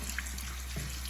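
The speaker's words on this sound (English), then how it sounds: "And then you're gonna rinse that part too." Tap water runs steadily while a Navage nasal care cartridge is rinsed under a faucet, a close, continuous trickling and splashing with small drips and no talk.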